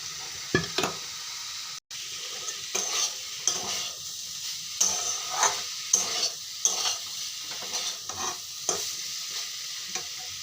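Pre-fried squash is tipped into a wok of fried spices with a pinch of sugar and stirred, giving a steady close sizzle broken by repeated scraping stir strokes and a brief dropout near the start.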